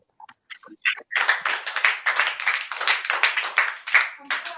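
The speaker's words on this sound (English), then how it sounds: "Clap for her for making that decision" Clapping from a small group on a talk show, a few scattered claps at first, then a run of sharp, closely spaced hand claps with uneven rhythm, near and fairly loud.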